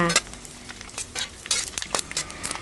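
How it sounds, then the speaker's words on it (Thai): Pork rinds frying in hot oil while a spatula presses them down to puff, with steady crackling sizzle broken by sharp metallic scrapes and taps of the spatula against the pan, close and moderately loud. "นี่ก็คือทอดสุดท้ายแล้วที่แอดมินจะทอดให้เพื่อนๆได้รับชมค่ะ"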